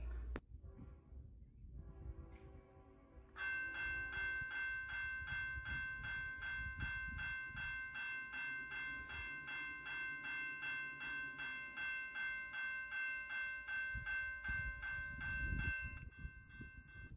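A late-running train on the main line rolls past steadily, its repeated wheel clatter and a sustained tonal ring filling most of the span after a quieter opening, loud and close without any voices.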